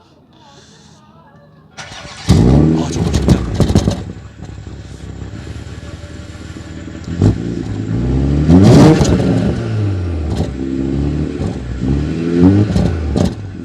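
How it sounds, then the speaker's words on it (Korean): A BMW 6GT 630i with stock exhaust starts up loudly after a quiet lead-in, then revs twice in rising and falling sweeps before settling to a steady idle. People speak briefly. "BMW 6GT 630i의 순정 배기음"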